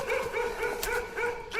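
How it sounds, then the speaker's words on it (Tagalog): A dog barks repeatedly at a moderate distance along a forest trail on Mount Banahaw during a trail run, with short sharp yaps coming in a quick, uneven series over steady outdoor background noise. "May aso na eh."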